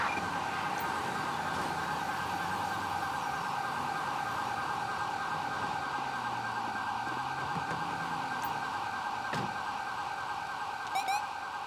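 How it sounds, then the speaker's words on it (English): Police vehicle sirens in GTA 5, a steady electronic wail cycling continuously in the Grand Senora Desert, loud and unbroken, with faint engine rumble beneath. "we're gonna go and see them get them sirens turned off"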